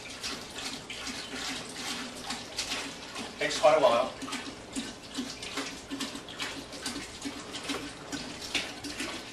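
Water for an Irish red ale brew streams steadily into a brewing pot as a second 2.5-gallon batch is added, a continuous splashing pour running throughout, with a voice speaking briefly over it.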